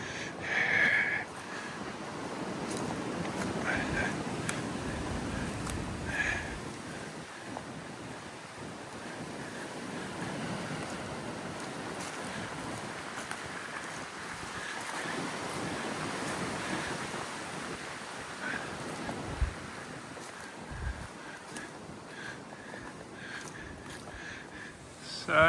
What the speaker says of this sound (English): I'll be glad to get out of this wind.